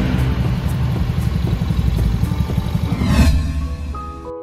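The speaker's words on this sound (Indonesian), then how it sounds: "Motor terus melaju, tapi cinta itu tidak kembali" A motorcycle engine rumbles steadily and close, with a low pulsing throb that rises briefly near the end before fading as the bike pulls away, and a short tonal sting follows.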